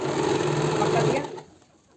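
A sewing machine runs close and steady, stitching a kaftan made from an old dupatta, with a continuous whirring buzz for just over a second before it stops abruptly into quiet room tone.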